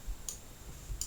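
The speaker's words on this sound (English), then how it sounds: "So I'll just click the refresh button." Computer mouse clicking a refresh button, two faint crisp clicks about three-quarters of a second apart in a quiet room.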